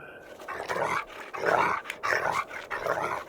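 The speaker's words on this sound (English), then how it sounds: "Away, away, barked the old yard dog" A dog makes rough, hoarse barks and growly yelps in several bursts, close by and fairly loud, with no one talking.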